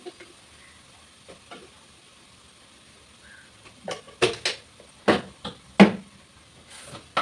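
Spices with salt and coriander powder are stirred in a hot pan: near silence at first, then a run of sharp scraping and clattering strokes against the pan over a soft sizzle, with no speech.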